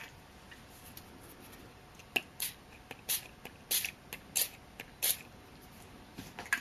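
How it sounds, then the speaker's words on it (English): Lindy's Stamp Gang Starburst ink spray pumped over a star onto fiber paste, giving about eight short, sharp hissing spritzes in an uneven rhythm, close and fairly quiet with no talk. "And we're going to spray the star."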